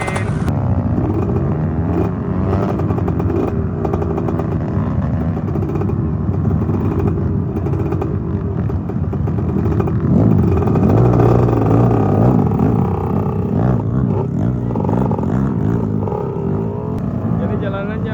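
A motorcycle engine revs hard and steadily while its tyres spin on a rough, slippery dirt trail in Bangkala, Jeneponto, with a louder surge partway through and voices talking over the noise.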